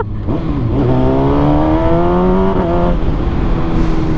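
An old LXR motorbike coasts downhill, its engine droning loud and close with a rising, shifting whine under wind noise, and no voices.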